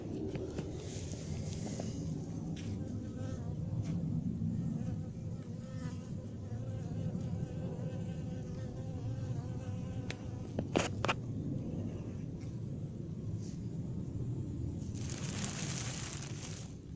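A large swarm of honeybees hums in a continuous, fairly faint buzz, with occasional brief knocks and rustles, and a voice speaks softly now and then.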